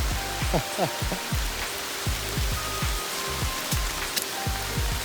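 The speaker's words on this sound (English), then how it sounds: "this is quite the rain, quite the thunderstorm." Heavy rain from a thunderstorm on Isle Royale hisses steadily, with scattered loud drops and splashes pattering nearby throughout.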